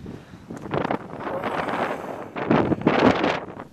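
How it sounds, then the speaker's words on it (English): Strong, cold wind gusting across a microphone high in the Presidential Range of the White Mountains, a loud continuous roar with buffeting surges, heaviest toward the end. "it's suddenly very cold and very windy"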